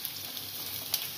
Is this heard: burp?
no